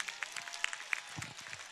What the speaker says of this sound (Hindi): तो इस स्कूल के तमाम टीचर्स और प्रिंसिपल्स के लिए जोरदार तालियां